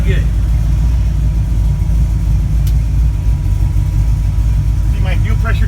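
A V8 Chevy S10 with wide rear slicks idles in a steady, deep rumble close by, with people talking over it throughout.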